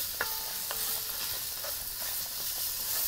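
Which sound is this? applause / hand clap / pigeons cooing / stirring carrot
stirring carrot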